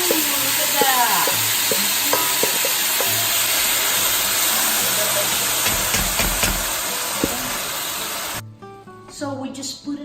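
Cherry tomatoes tipped into a pan of frying onions set off a loud, close sizzle with stirring clatter, which drops away sharply near the end.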